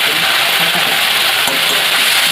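Spice paste with green chilli frying in oil, a loud dense sizzle that hisses steadily and close throughout, with faint stirring scrapes.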